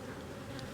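Agitated honey bees swarm around an opened hive, a faint but continuous droning buzz from many insects that stays level without pauses and without speech.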